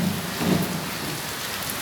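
Heavy rain pours steadily in a dense, close hiss with a low rumble underneath, and no voices are heard.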